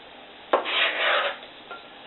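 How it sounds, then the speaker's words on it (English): Knife scraping avocado off a surface, a single close rasping scrape lasting under a second, followed by a fainter short scrape, no talk. "just take your knife and just scrape it right off"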